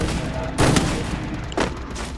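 Two loud, sharp bursts of gunfire about a second apart in the Free Fire Max battle game, heard close up over a constant rumbling background.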